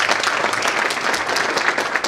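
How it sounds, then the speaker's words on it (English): Conference audience giving a dense, steady round of applause, many hands clapping close together with no break. "Can we clap for her?"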